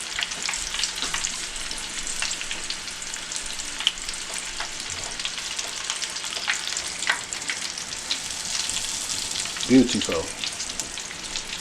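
Cajun-seasoned shrimp deep frying in hot oil give off a steady, close, bubbling sizzle with a few louder pops near the end; a voice briefly speaks over it.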